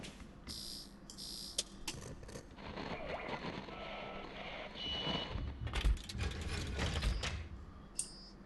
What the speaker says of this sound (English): Okay, I guess that opened up the door.